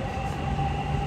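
A Dubai Metro Red Line train runs with a steady, loud rumble and a constant tonal hum from inside the carriage, with no break in the sound.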